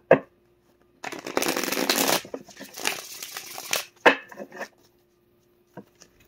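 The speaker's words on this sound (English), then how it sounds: "Let me shuffle this up a little bit." Tarot cards are shuffled up close in bursts of riffling, flapping paper: a long rustling shuffle, then shorter snaps and taps of the deck, and a few quiet gaps between them.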